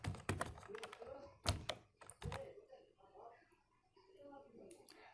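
Quiet clacking keystrokes on a computer keyboard while searching VS Code settings, in a few quick clusters of taps, heard under someone speaking.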